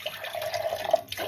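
Cold water pouring from a tap over chicken in a kitchen, a steady faint trickle and splash for about a second, with no talk.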